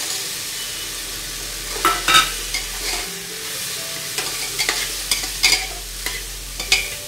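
Soybeans added to cooked spices in a pan for soybean masala rice, a steady close sizzle with repeated clinks and scrapes of a spoon stirring.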